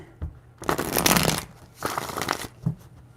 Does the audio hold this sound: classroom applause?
no